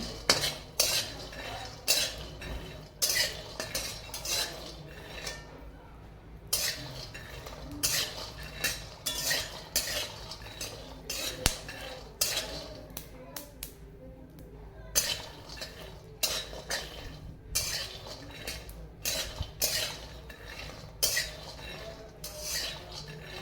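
Peanuts dry-roasting in a pan while being stirred, giving a long run of rattling, clinking scrapes of the spoon and nuts against the metal, with a few short pauses and no talking.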